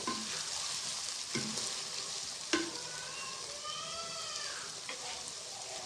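Mixed vegetables with peas and potatoes fry in a pan, a continuous soft sizzle broken by a few sharp scrapes and knocks as the mixture is stirred, close and with no voices.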